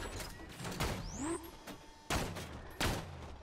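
Sharp bursts of gunfire from a cannon in the video game Borderlands 2 crack out in a few separate volleys, mixed with sweeping synthetic effects and background rumble.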